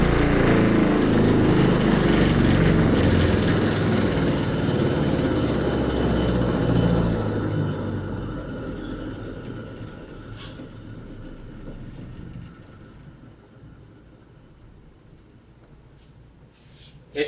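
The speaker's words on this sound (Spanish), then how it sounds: "voy a apagar el motor todo, ya está desenergizado y pues vamos a pasar por resonancia otra vez" A laboratory motor rig for mechanical vibration testing is switched off and runs down through resonance, a loud droning rumble that fades gradually and winds down to near silence, with someone speaking over it.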